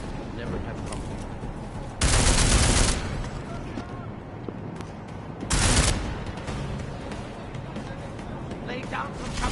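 Two loud bursts of gunfire in The Division, each lasting under a second and set a few seconds apart, rise over a steady busy game soundscape while a voice talks through the clip.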